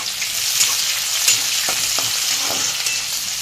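Onion hits hot oil with garlic already browned for a quick cabbage bhaji, giving a dense, close sizzling hiss with a few stirring clicks, steady and without talk.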